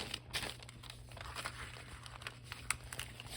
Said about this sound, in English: I'm just doing a quick fold here. Just a light fold